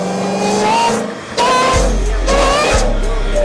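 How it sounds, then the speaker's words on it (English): A supercharged V8 Corvette ZR1 revs loudly and close, a thin high-pitched supercharger whine riding over the deep engine roar as the revs surge and briefly dip. "Its supercharger is forcing huge amounts of air into the V8, and as its internal components spin faster, they produce that distinctive high-frequency whine."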